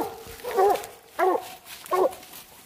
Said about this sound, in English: You want me to get one of these dogs, James?